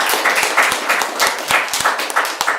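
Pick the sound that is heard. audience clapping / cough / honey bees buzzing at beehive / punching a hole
audience clapping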